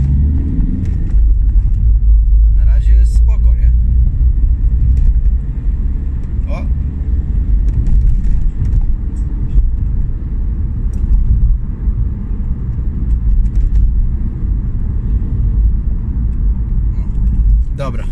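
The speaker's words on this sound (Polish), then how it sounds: "powoli się przejadę, żeby się silnik dogrzał" A VW Golf 4 1.9 TDI turbo diesel driven slowly to warm the engine, a steady low rumbling drone heard from inside the car with occasional faint clicks and rattles, no strong revving.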